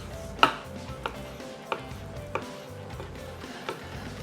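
A knife chops raw tuna into small cubes on a board, about six crisp, evenly spaced chops close by, with no talking.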